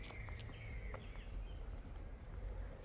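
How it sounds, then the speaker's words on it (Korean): Birds singing deep in a forest park in Tübingen, faint scattered chirps and short whistled calls over a soft, steady outdoor background hush. "새소리도 들리고"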